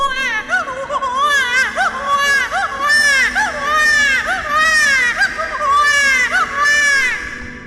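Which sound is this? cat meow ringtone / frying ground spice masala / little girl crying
little girl crying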